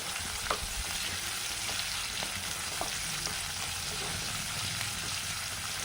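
Onions sauté in a pan for potato kurma with a continuous dense sizzle and occasional soft stirring clicks, close and steady throughout, with no talk.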